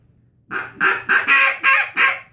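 Six quick quacks from a Duck Lander duck call, sounded close and loud in an evenly spaced run, each blast a short nasal burst, imitating a duck.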